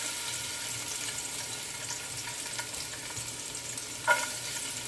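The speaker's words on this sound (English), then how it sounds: "Now I'm gonna add some garlic." Garlic sizzles steadily in a tablespoon of olive oil, a close, continuous frying hiss with a brief clink or stir near the end and no talking.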